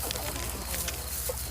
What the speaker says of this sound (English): Chickens figured it out rapidly.